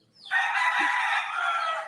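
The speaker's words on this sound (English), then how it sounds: "Outside, his own courtyard and a half-dozen fighting roosters believed to be his." A fighting rooster in an Ecuadorian prison courtyard crows once, a single loud, drawn-out call that rises sharply and holds, standing alone with no talk around it.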